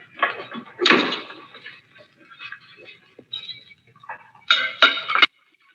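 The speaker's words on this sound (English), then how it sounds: "Open the door." A door is opened late at night, with a series of clattering knocks, latch clinks and rattles over several seconds, ending in a sharper burst of bangs before it goes quiet; no talking.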